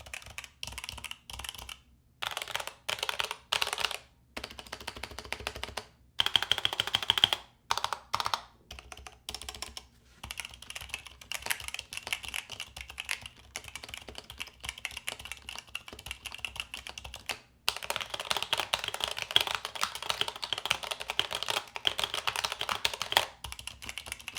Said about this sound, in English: It sounds more like that traditional gamer keyboard,